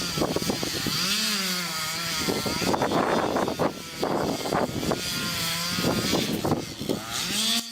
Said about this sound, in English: the Stihl 440 chainsaw to continue opening the back of the tree